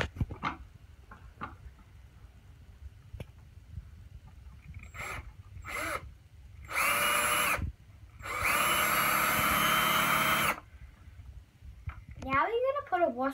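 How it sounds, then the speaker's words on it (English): A power drill bores a hole through a wooden centerboard for a homemade billy cart, with two loud, close bursts of whirring, a short one and then a longer one, between quieter handling noises, and a voice speaks near the end. "Next we're going to drill our hole in the centerboard."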